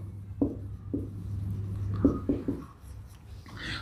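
Pen or chalk writing out a maths solution for polynomial zeros, a handful of short faint scratchy strokes in an irregular rhythm over a quiet low hum.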